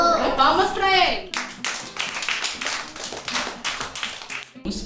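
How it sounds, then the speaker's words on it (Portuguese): People clap for a child at a community project gathering, a brisk round of close hand claps following a brief stretch of someone talking. "Palmas pra ele."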